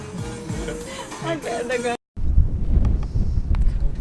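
Wind blowing outdoors in Tasmania, a low, rumbling buffet against the microphone that fills the second half steadily and loudly after a brief cut from music.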